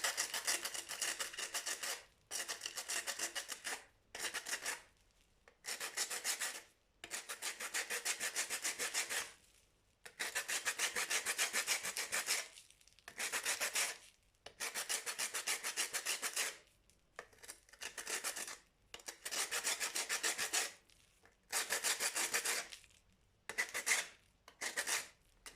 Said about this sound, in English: I've sanded off the pieces that I wanted to.